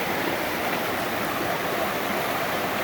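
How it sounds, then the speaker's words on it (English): A small tributary stream flowing into Deep Creek on a wooded trail after rain, a steady, close, broadband rushing of water with no break and no voices. "This is a tributary into Deep Creek over here."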